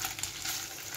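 Blood sausage with onion frying in a pan, a steady close hiss and crackle of sizzling fat that holds constant with no talk.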